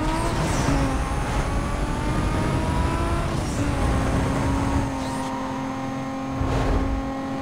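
A Toyota Supra engine drones steadily in the Need for Speed Most Wanted racing game, its pitch climbing and dropping through gear shifts as the car drives continuously, loud and close, with brief tire noise.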